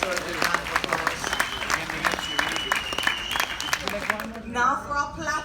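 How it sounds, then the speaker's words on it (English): A crowd of loyalty-program members aboard the Coral Princess cruise ship claps in a dense, continuous round of applause while someone talks over it. "give yourself also a good round of applause"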